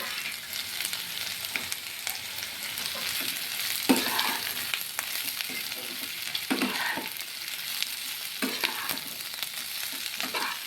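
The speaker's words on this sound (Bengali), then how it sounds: "এবার আলু আর কুন্দুলিটাকে আরও কিছুক্ষণ ভেজে নেব।" Potatoes and ivy gourd fry in a pan with a steady, close sizzle, broken by repeated scraping stirs of a spoon against the pan.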